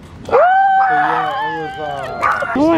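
Dogs howl and whine in a rising, wavering chorus close by, with a person's voice briefly exclaiming over them.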